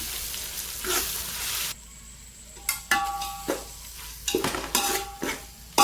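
Egg biryani base with chili powder and salt being stirred in a pan, a spoon scraping and clinking against the metal in short irregular strokes over a low sizzle, close and moderately loud, no talk.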